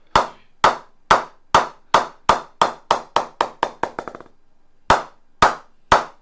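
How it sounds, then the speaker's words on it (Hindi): A hammer tapping a solid, thick cricket bat, producing about fifteen sharp, crisp knocks that speed up into a rapid flurry, then resume at a slower pace, close and loud with no speech. "अगर मैं आपको हैमर से अगर इसका पिंग दिखाऊं, आवाज सुनो"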